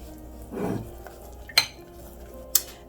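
Chai-spiced shortbread dough with orange juice is stirred in a bowl, giving a soft scraping swirl followed by two sharp, close clinks of utensil against the bowl in a quiet kitchen.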